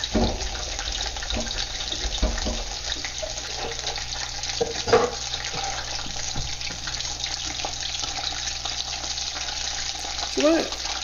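Battered jumbo shrimp deep fry in a fryer, giving a steady, close bubbling hiss of hot oil with occasional small pops and knocks throughout.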